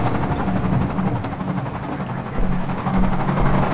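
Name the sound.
helicopter in video game Half-Life 2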